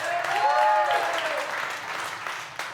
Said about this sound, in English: Everybody give Mike a round of applause.